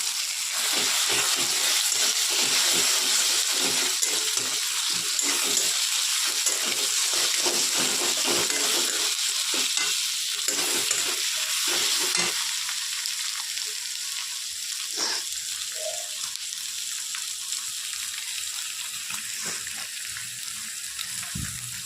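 Two eggs frying in a hot pan while making chowmein, a loud, steady close sizzle and hiss that continues throughout, softening a little in the second half, with no talking.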